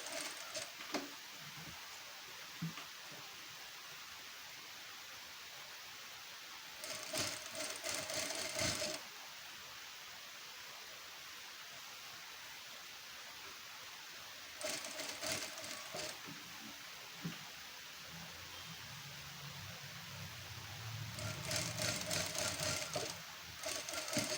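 A sewing machine stitching a square neckline runs in three separate bursts of rapid, even needle clatter, each a couple of seconds long, with quiet pauses and faint handling noises in between.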